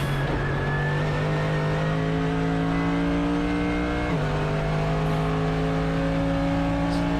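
A race car engine holds a loud, steady high-revving drone through a hard lap, its pitch climbing slowly, dipping sharply at a gear change, then climbing again, with steady wind and road roar beneath and no talk.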